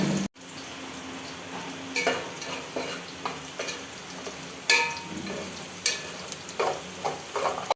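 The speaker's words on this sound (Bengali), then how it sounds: "এখানে আছে কাজু, তারপরে হচ্ছে কিশমিশ আছে, আর কালো সরষে আছে, আর বুট ডাল আছে অল্প। তো এগুলো আর কি ভাজা হচ্ছে।" Cashews, raisins, black mustard seeds and a little chana dal frying in a pan for lemon rice, a steady soft sizzle under sharp clinks and scrapes of a spoon stirring at irregular intervals.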